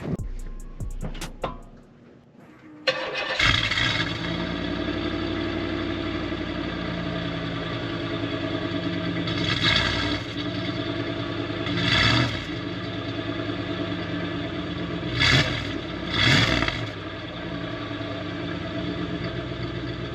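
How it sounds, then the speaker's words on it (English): A Cadillac truck's engine cranks briefly and catches on a semi-cold start with the engine already somewhat warm, then settles into a steady idle with a few revs rising and falling. "let me give y'all a semi-cold start"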